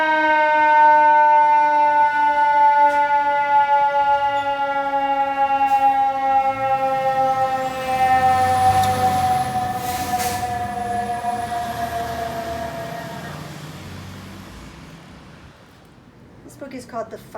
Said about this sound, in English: put it right down here on the pedal, and it will activate the siren